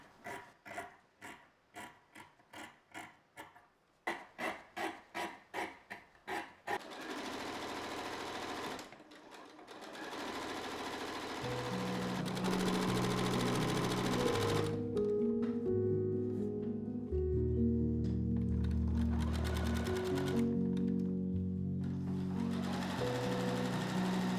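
A home sewing machine stitches fabric for homemade clothes, starting in short rhythmic bursts of rapid needle clatter and then settling into a long, steady whirring run, close and clear with no voices.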